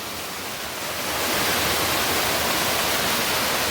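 Ozar waterfall at Vayangani Wadi in Owaliye village, Sindhudurg: a steady, loud roar of falling water that swells slightly after the first second and then holds as a dense, unbroken rush.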